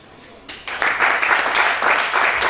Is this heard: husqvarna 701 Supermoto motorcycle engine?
no